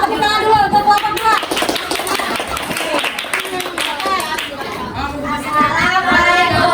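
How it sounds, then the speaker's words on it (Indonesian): A primary-school class claps for a group, a quick run of rhythmic hand claps under lively children's chatter and talking throughout. "Tepuk tangan dulu untuk kelompok 2."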